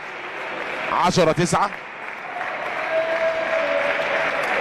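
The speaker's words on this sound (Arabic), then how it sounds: "الجماهير بتشجع اللاعبين" Crowd applauding and cheering at a men's league table tennis match between Al Ahly and Zamalek, a sustained wash of clapping beneath a commentator's brief speech.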